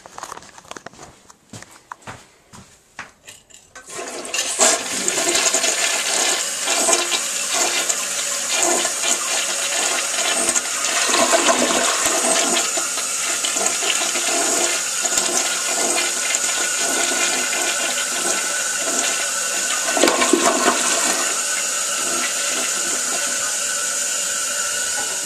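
Two newer American Standard Cadet toilets flush in a bathroom, a loud, sustained rush of water starting after a few seconds of quiet footsteps and handling, running steadily for about twenty seconds with a brief surge near the end.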